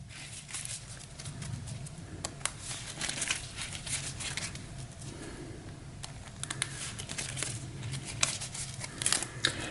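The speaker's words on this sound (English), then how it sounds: "Give this a quick shuffle." A deck of Arkham Horror cards is shuffled close by during a tabletop game, with a run of crisp riffling, rustling card noise and a few sharper snaps, steady and fairly loud throughout with no talk.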